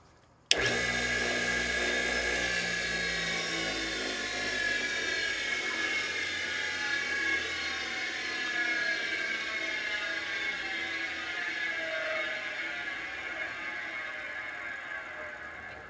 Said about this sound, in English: the motor doesn't sound like it's running right